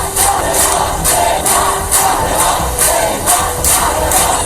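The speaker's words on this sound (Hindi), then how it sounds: "तालियों की गड़गड़ाहट ने उनका स्वागत किया।" A large crowd at Tehran airport roars and cheers in loud, pulsing waves, rising and falling about twice a second like rhythmic chanting or clapping, with no clear talk over it.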